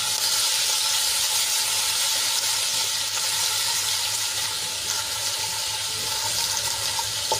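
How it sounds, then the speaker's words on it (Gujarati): Garlic, ginger and chili paste with a pinch of asafoetida frying in hot oil for a Gujarati vegetable curry, a steady close hiss and sizzle that holds evenly without pause. "અને તેલમાં આપણે એને સરસ રીતે સાંતળી લઈશું."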